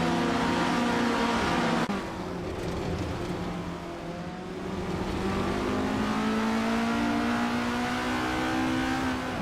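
Race cars including a 1975 Metal X MTX 103B scream past during a tight-pack race, high engine whine sweeping in pitch as cars approach and pass, steady and fairly loud with an abrupt shift partway through.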